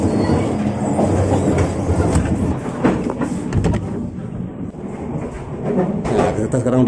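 An economy-class passenger train runs fast along a winding track, heard from inside as a loud continuous rumble with rhythmic wheel clatter and occasional squealing, with a voice speaking over it.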